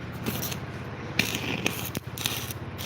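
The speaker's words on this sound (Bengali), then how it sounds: "এখানে এখন ঝালাই চলতেছে" Welding at an engineering workshop, a steady close crackling hiss with scraping and brief metallic clicks that continues throughout, no talk.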